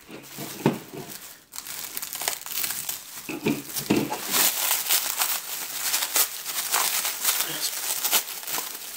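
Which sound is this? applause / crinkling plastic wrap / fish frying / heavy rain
crinkling plastic wrap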